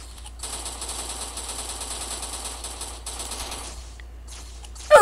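Rapid continuous gunfire from weapons in a video game rattles on for several seconds, dense and steady, then briefly drops out before a louder burst at the end.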